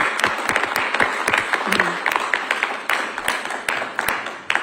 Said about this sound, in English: A round of applause here.